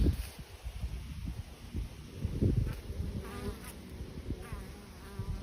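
Honeybees buzz in a steady, dense hum at a hive entrance, many insects droning close by with passing individual whines over light outdoor wind.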